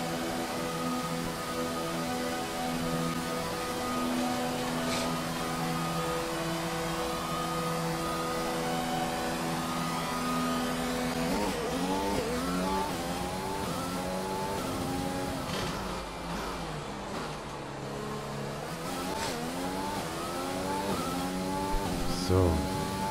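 Formula 1 race car engine in the F1 2020 racing game, set at the Canadian track, holds a steady loud high whine with harmonic sweeps as it revs up and down through gear changes, with a faint voice speaking underneath.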